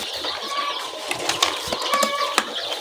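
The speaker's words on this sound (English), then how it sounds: "The birds are really happily feeding." Baby chicks feeding in a brooder, giving a steady bed of soft chirps and rustling with a few sharper pecks and flutters close by, no talking.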